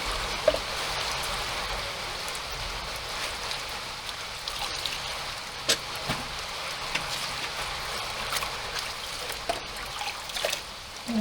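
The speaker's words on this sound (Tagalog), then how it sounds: "Bigla buhos na ulan." Heavy rain pouring down steadily during a storm, a dense continuous hiss of water with scattered drips and splashes close by, no talking.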